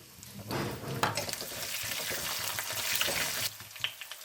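Ginger, green chili, garlic and dried chili fry in a pan with steady crackling sizzle and occasional stirring scrapes, close and fairly loud, easing off near the end.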